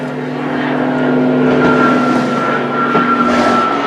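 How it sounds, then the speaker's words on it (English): A low-flying plane passes overhead outdoors, a steady, loud engine drone with a faint tonal hum that swells slightly and holds throughout, no voices over it. "You hear that plane passing over there?"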